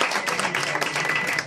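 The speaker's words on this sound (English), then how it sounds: "Prime Silverman, round of applause, everybody" Audience at a Chanukah mind-power stage show breaks into a short burst of steady applause and cheering, fairly loud and continuous throughout.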